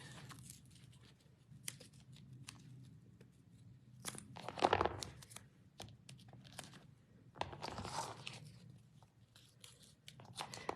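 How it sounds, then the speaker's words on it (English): Foam adhesive pieces are cut for a card layout, heard as quiet, close snips and crinkling rustles that come in short bursts with pauses between them. There is no talk. "So I'm going to cut some foam pieces right now, put them on the back."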